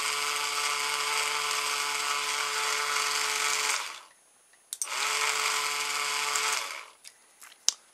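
A cheap toy tank's small electric motor, held in place with hot glue, whirs steadily in a kitchen for about four seconds, stops briefly, then runs again for a similar stretch before cutting off, with a few small clicks after.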